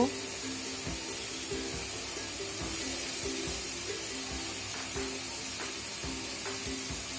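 Whole spices fry in hot oil with salt and turmeric powder added for a Bengali dal bori curry, giving a steady close sizzle with scattered spatula scrapes and stirring clicks throughout.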